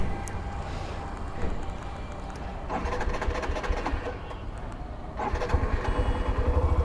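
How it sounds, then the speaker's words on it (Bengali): A motorcycle fitted with a remote security lock is started, with a few bursts of cranking and engine noise that then settle into a steady running rumble nearby. "এবার অন করি বাইকটা"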